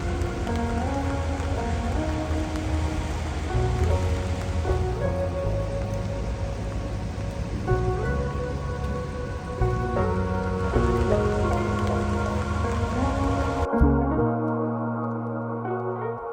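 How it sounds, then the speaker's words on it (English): Rain patters steadily over a surface in Zurich, a dense hiss of drops under sustained musical tones, then the music drops away near the end. "As it was continuously raining"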